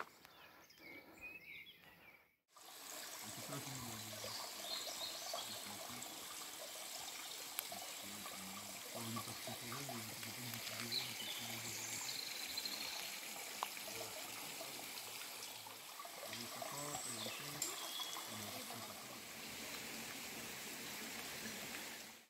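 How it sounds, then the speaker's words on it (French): Water from a spring at the source of the Huveaune trickles and flows steadily in a small stream, a continuous close babbling with no one talking. "ça me fait ce petit ruisseau d'eau qui a jusqu'en bas"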